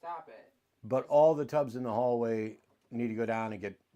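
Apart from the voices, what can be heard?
No distinct noise like a dog, phone or traffic.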